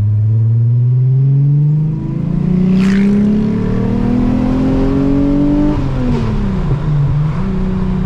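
A six-cylinder Volkswagen Golf accelerates hard on a road, its engine note climbing steadily in pitch through the gears, loud and close, with a brief shift before rising again.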